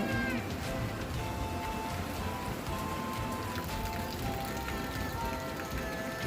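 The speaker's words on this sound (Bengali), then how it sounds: "প্রচুর বৃষ্টি হচ্ছে" Heavy rain falls in a dense, steady hiss that fills the whole stretch, with a cat's meows rising over it now and then.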